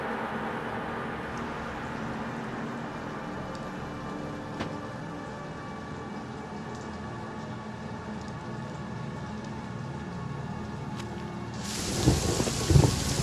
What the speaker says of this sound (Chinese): 外面下雨了，你注意点啊。